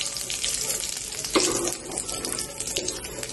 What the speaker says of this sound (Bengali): তেল গরম হয়ে গেছে, এর মধ্যে আমি জিরে আর আজওয়াইনটা দিয়ে দিলাম।